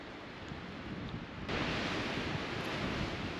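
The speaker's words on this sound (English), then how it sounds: "The wind is already covering our tracks up" Wind gusting on a snowy mountain trail in Rocky Mountain National Park, a continuous loud roaring rush that swells stronger halfway through, close and buffeting the microphone.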